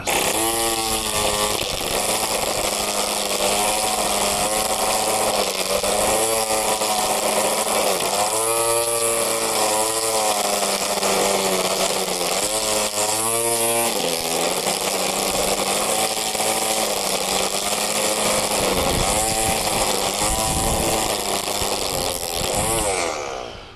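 Wild Badger Power 20V cordless string trimmer cutting grass and vines, a loud, steady whirring buzz that runs unbroken, with brief dips and strains as the line bites into growth, then cuts off at the end.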